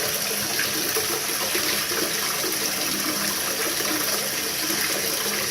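Tap water rinses through trombone tubes as a steady, loud, broadband gush that stays even and unbroken throughout, with no voices.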